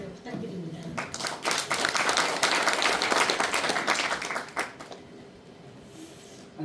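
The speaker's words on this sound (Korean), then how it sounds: "회장님께 큰 박수 부탁드립니다." Forum audience in a second-floor performance hall applauding to welcome the host association's chairman; clapping swells to a steady mass, then thins and fades out near the end, with a few voices mixed in.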